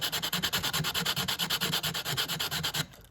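A project part sanded by hand with 100 grit sandpaper, a close, loud, steady back-and-forth rasp of about fifteen strokes in even rhythm, stopping just before the end, alone without speech.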